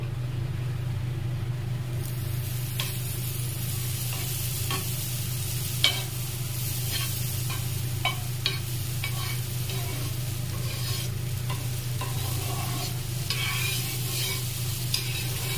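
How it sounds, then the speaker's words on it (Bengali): Butter sizzles on a hot griddle for fried rice while a spatula stirs and scrapes across it, giving a continuous frying hiss punctuated by repeated metallic clicks. "পুরো তাওয়াটায় সুন্দর করে মিশিয়ে নিয়েছি বাটার।"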